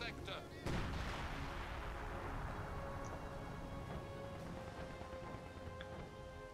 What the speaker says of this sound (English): I'm barraging that sniper now.